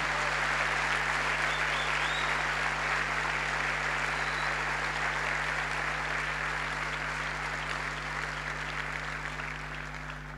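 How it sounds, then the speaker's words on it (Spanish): Steady applause from a church congregation fills the space for about ten seconds, dense and even, easing slightly toward the end with no voices on top. "Si le vas a aplaudir, aplaudile con ganas."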